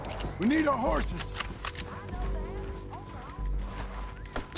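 Horses in the western video game Red Dead Redemption 2 whinny and neigh with rising and falling calls, backed by clip-clopping hooves and game ambience, with someone talking over them.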